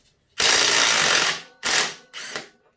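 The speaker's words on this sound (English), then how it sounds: "all we need to do now is buzz out the wheel spindle" A power tool buzzes out the front wheel spindle of a Suzuki DR200 motorcycle, giving one long rattling burst and then two shorter ones, loud and close with no talking.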